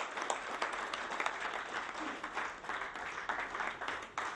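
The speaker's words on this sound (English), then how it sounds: "Let's give a big round of applause to Mr." An audience at a conference opening session gives a keynote speaker a dense, sustained round of applause from many hands. It stays steady throughout at a moderate distance, with no speech on top.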